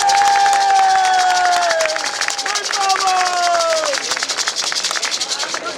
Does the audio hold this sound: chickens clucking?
no